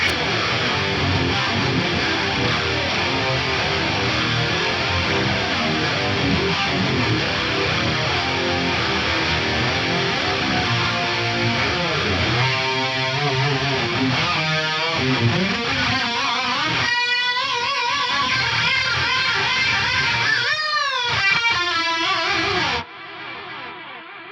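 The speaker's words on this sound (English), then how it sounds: "when I stop playing, I'm going to get these massive delays on here" A distorted electric guitar through a ducking delay plays dense, washy notes, then trailing echoes repeat and swirl after the playing stops before cutting off abruptly.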